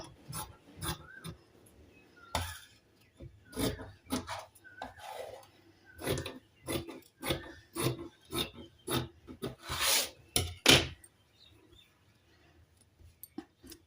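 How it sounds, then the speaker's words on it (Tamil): Scissors cut through blouse lining cloth in a long run of short, rasping snips. The strokes come close and fairly quiet with brief pauses between them, and no voice is heard. "இப்போ பாருங்கள் ஒரு பட்டி மட்டும் நம்ம லைனிங் கிளாத்தில் கட் பண்ணியிருக்கோம்"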